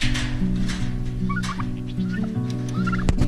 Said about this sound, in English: These guys are bourbon red turkeys.